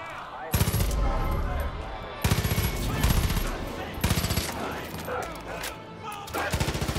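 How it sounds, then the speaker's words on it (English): Bursts of automatic gunfire in the video game Far Cry 5, several loud rapid volleys separated by short gaps, with a voice talking at times underneath. "I don't even know where I was getting shot from."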